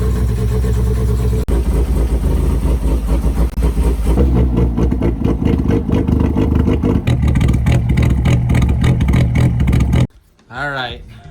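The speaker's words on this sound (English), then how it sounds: "So his car is still making a questionable noise." A Toyota Corolla TE72 with a 3TC Hemi engine runs loud and close, revving steadily before cutting off abruptly near the end, followed by a short burst of a voice.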